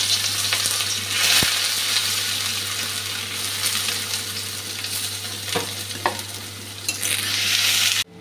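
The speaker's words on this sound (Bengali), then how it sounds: "শুকনো লঙ্কাটা প্রথম দিয়ে দিচ্ছি, কাঁচা লঙ্কা আর পেঁয়াজটা দিয়ে দিলাম।" Dried chilli, green chilli and onion fry in a pan with a loud, steady sizzle. Occasional stirring scrapes and clinks sound close by.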